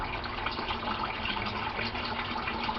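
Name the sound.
water draining out of a pipe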